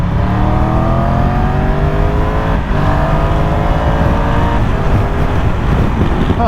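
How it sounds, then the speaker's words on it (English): A Triumph 1200 GT Pro motorcycle engine drones loud and close as the throttle is worked, pitch climbing through repeated rising sweeps over heavy wind rush. "Oh, I can't stay off that throttle."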